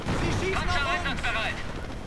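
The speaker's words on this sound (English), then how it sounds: "we have artillery just dropping all around the Allied position" Artillery shells land in a World War II video game battle. Dense, continuous rumbling blasts overlap and stay loud through the short clip, with a voice talking underneath.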